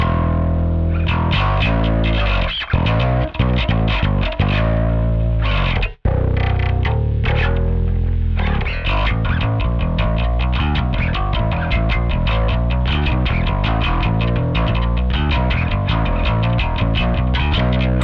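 Heavily distorted bass guitar through a Tech 21 DP3x preamp pedal with drive turned way up plays chunky riffs and sustained notes, with a brief break partway through, loud and up close.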